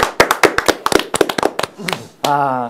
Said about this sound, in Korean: 박수로 시작하겠습니다